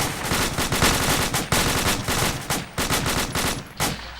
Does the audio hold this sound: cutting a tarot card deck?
no